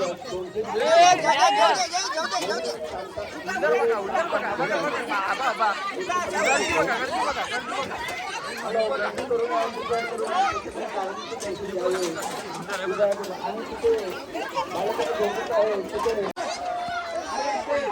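Dense crowd chatter at a village temple fair, many voices talking and calling over one another at close range in a continuous busy babble, with a few clearer shouts rising above the mix.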